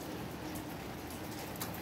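Steady rain falls in Curitiba during cold weather, a dense continuous hiss of drops on surfaces, even and unbroken throughout with no talking.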